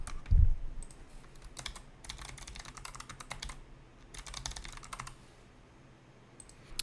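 Quick bursts of clicking keystrokes on a computer keyboard as a password is typed, close and fairly quiet, with short pauses between the runs of taps.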